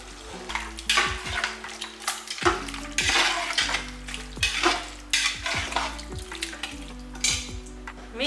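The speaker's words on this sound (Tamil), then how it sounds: "எல்லாம் ஒன்றா சேர்ந்து நல்லா வதங்கட்டும்." Biryani masala with thick curd and herbs stirred and sautéed in a pan, a spoon scraping and knocking against the metal in repeated strokes over a steady low sizzle.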